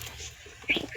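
A newly bought pet pigeon gives a short, close cooing call, a brief throaty burst near the end with no talk around it.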